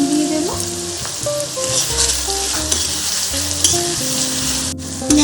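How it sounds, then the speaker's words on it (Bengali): Onions fried in oil with a spoonful of salt for a mutton curry, giving a steady, close sizzle with stirring and metal scrapes throughout, no voices. "ভালোভাবে পেঁয়াজটা ভেজে নেব। পেঁয়াজ ভাজার সময় আমি 1 চামচের মতো নুন দিয়ে দেব।"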